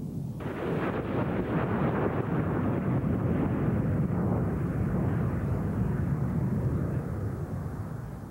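F-16 fighter jets landing at an air show, a loud continuous roar that rises sharply at the start and holds as a dense rumbling blast before easing slightly at the end, with no voices.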